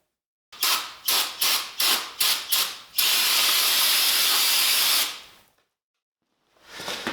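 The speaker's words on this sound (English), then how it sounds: "as I was starting to heat these things up with a little torch there, a little propane torch" A small propane torch heats metal rear brake parts for a G-body Cutlass tube-frame chassis, giving a row of short hissing puffs, then a sustained close roaring hiss that fades out, followed by another hiss starting.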